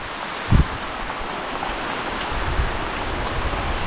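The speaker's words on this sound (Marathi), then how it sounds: "हा बघा निघायच्या वेळेला बरोबर पावसाने हजेरी लावलेली आहे" Monsoon rain falling in a dense Konkan forest, a steady even hiss of drops on leaves and ground close around, with a couple of soft low thumps early on and no voices.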